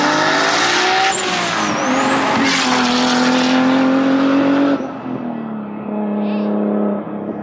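A 2JZ-swapped Datsun 260Z pulls hard from low revs toward 7,000 RPM, its engine note climbing loud and steady up close, then a shift and a second rising run, with no talking.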